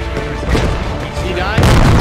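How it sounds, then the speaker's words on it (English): In the video game Squad, on an Afghanistan map, a mortar round lands with a loud, heavy boom that swells late in the moment, cutting over tense voices and ongoing battle noise. "Incoming mortar."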